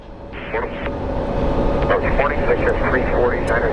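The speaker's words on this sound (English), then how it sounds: "So our flight to Minneapolis is finally on a roll." A Southwest jet airliner heading to Minneapolis begins its takeoff roll at Phoenix Sky Harbor, its engines building into a steady rising roar, with radio chatter faint beneath.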